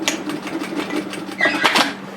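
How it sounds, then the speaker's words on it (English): A sewing machine stitching the armhole of a dress lining up to a pin: a fast, even mechanical whirr of rapid needle strokes, close and fairly loud, with a brief burst of louder rattling near the end. "And stitch as far as you can, which is ideally up to your pin position,"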